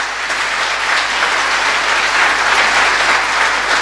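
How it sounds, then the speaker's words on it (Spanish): Loud, steady applause from a church congregation fills the whole stretch, dense clapping without pause or speech after a call to applaud newly baptized believers. "Denle un fuerte aplauso."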